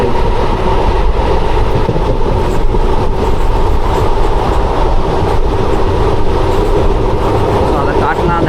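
Passenger train on the Tambaram to Guruvayur route heard from inside, a steady loud rumble and rolling rail noise with constant clatter throughout, a voice faintly present beneath.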